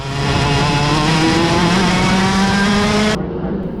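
A racing kart engine at warm-up on the USPKS Orlando track, a loud close-up buzzing drone that rises and falls in pitch before cutting off sharply near the end.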